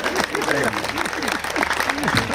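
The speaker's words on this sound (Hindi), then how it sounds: "आप लोग जोरदार तालियां बजाइए।" An audience in a school courtyard applauds at a Hindi comic poetry event, a steady wash of many hands clapping under a voice speaking over it.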